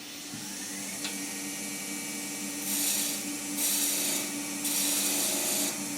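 A deep fluted spindle gouge cuts wood spinning on a lathe over a steady motor hum. After a few seconds the hum gives way to several loud, close bursts of hissy scraping.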